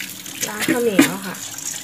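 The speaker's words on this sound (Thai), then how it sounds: "ล้างข้าวเหนียวค่ะ" Sticky rice is washed by hand under running tap water, with short splashing and gurgling sounds over a brief stretch. A voice is faintly present.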